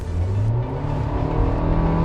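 Hyundai Creta engine straining under acceleration during a test drive, a steady loud droning hum that holds throughout with no talk over it.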